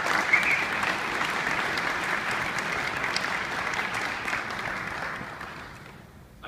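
A convention audience of municipal delegates applauds to welcome Green Party of British Columbia leader Adam Olsen, steady dense clapping that fades out after several seconds.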